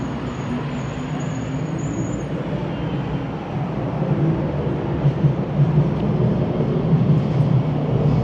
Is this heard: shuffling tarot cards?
no